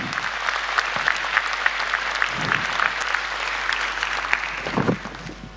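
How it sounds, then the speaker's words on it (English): An audience gives a government minister a round of applause at a formal ceremony in Zimbabwe, a sustained, steady clatter of many hands with occasional louder claps, lasting throughout. "May we give her a round of applause as she comes forward."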